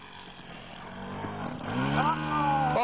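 A Saito 56 model airplane engine runs at a winter flying field with ski-equipped planes, its buzzing drone rising steadily in pitch and volume as it revs up nearby.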